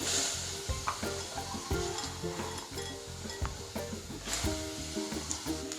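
Chickpeas are roasted in a pan of hot salt, the grains rattling and scraping as they are stirred in a steady, busy rhythm of gritty clatters and thumps, close and fairly loud with no talking.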